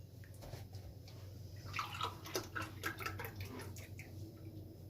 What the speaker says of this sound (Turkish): bir bardak süt dökelim